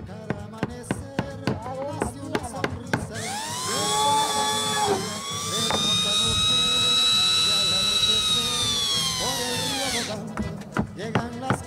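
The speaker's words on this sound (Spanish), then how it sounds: "Estoy lijando el palito, le estoy dándole un acabado para formar mi palmerita." A small power tool whines at high pitch as it sands a wooden stick, holding steady for several seconds, with sharp tapping clicks before and after.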